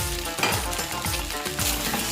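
Egg pasta with eggs sizzles and fries in a pan, with a steady close hiss and scraping stirring strokes recurring through it. No one speaks.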